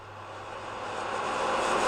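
A reversed vocal whoosh drenched in reverb swells steadily louder over about two seconds, a ghostly, breathy rush building toward its end with no clear words.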